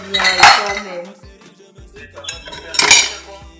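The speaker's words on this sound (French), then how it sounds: "Là, je suis en train de faire la vaisselle." Dishes being washed by hand, with metal cutlery and pots clinking and clattering in bursts, close and loud, with quieter handling between.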